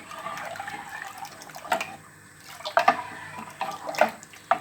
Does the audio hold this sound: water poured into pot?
yes